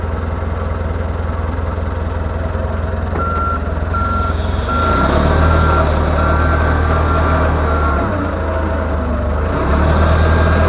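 A diesel forklift backs slowly out of a pallet, its reversing alarm giving a regular run of loud evenly spaced beeps over a throbbing idling engine that swells as throttle rises.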